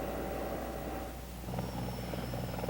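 A CH-54 heavy-lift helicopter takes off, giving a steady, droning rotor and engine roar that fills the whole stretch at a constant level, with no speech over it.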